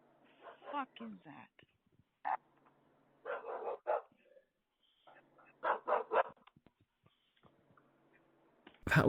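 A dog barks in short, sharp bursts, close by, while people talk and exclaim in between and over the barks, with quiet gaps.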